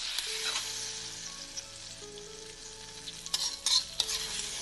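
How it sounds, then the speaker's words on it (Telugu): Tempering spices fried in hot oil sizzle steadily as they are poured into a banana stem, mustard and yogurt chutney, with a few close spoon clinks and stirring scrapes near the end; no talking. "ఇప్పుడు తాలింపు వేసేద్దాము"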